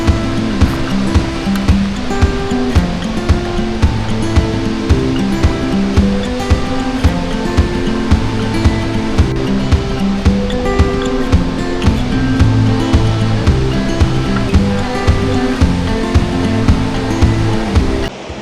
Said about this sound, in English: I've never seen a waterfall this amazing.